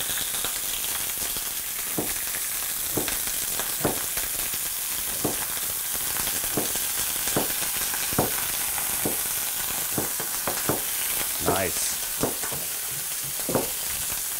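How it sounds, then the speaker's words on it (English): Food sears skin side down in a very hot frying pan, giving a steady loud sizzle broken by regular sharp crackles and spits. No one speaks. "I'm going to start skin side down over here."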